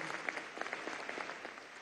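Audience applause at a Día del Médico ceremony in Venezuela, a steady, dense crackle of many hands clapping at moderate distance, heard on its own without talk.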